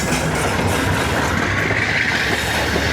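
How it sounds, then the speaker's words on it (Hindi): The 9 Up Allama Iqbal Express passing close by, a loud, continuous rumble and rattle of rolling wagons with no pause. "यहाँ से आ रही है 9 अप अल्लामा इकबाल"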